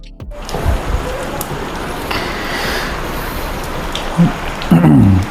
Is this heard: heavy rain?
yes